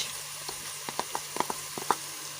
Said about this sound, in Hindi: मैं इसके अंदर अदरक और लहसुन का पेस्ट ऐड करूँगी 1 चम्मच